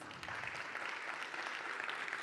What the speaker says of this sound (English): You have to keep the applause going.